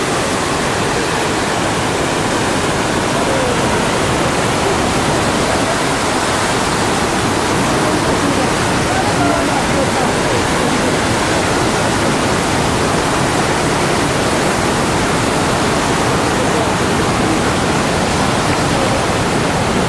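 A waterfall at a remote village site produces a loud, constant rushing roar of falling water, unbroken and steady throughout with no voices.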